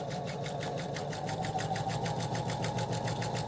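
A sewing machine runs steadily while stitching quilt fabric, its needle giving a fast, even mechanical chatter at low volume with no pauses.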